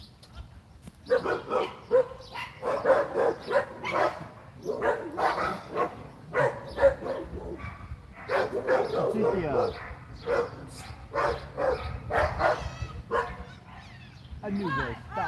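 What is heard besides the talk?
dog barking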